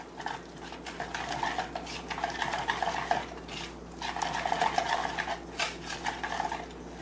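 A lasagna mixture seasoned with oregano being given a final stir, heard as continuous close scraping and rubbing strokes of a utensil in a bowl, in uneven bursts with short pauses, no talk.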